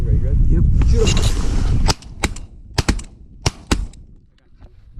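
Shotgun blasts during a waterfowl hunt, several sharp close reports in an irregular volley, some nearly overlapping, following a stretch of rumbling wind and movement noise, with voices nearby.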